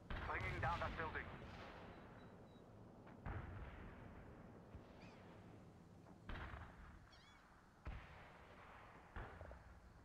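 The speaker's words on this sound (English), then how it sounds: "We're ready with the artillery. Bringing down that building." Soviet artillery strikes bring down a building in World in Conflict, heard as a series of heavy booming blasts spaced a second or two apart, following a burst of battlefield noise and voices at the start.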